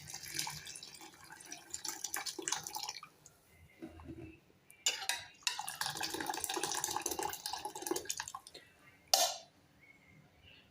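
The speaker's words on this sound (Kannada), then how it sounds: "ಇದೇ ಮೂಮೆಂಟಲ್ಲಿ ನಾನು ಈ ಕುಕ್ಕರಲ್ಲಿ ಇದನ್ನು ಬೇಯಿಸಿದ್ದೀನಲ್ಲ ಹುಳ್ಳಿಕಾಳು, ಅದರ ರಸ ಕೂಡ ಅದರೊಳಗೆ ಹಾಕ್ತೀನಿ." Cooked horse gram broth is poured from a pressure cooker into a pot of sambar, making bursts of splashing, trickling liquid with short pauses between pours. The sound is close but fairly soft.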